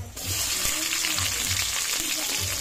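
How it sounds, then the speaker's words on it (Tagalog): Onion and garlic sauté in a hot pan with a loud, steady sizzle and crackle starting abruptly, occasional stirring knocks, close up, with no talk heard. "Magigisa na tayo"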